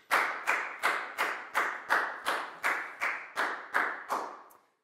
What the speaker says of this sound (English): High five and a big round of applause for Down, please, guys.